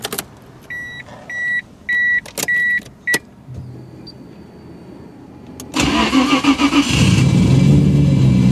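Modified 1997 Nissan Skyline GT-R V-Spec R33: a series of chimes and beeps, a brief whir, then the engine cranks and fires into a loud, rough idle that settles into a steady rumble up close.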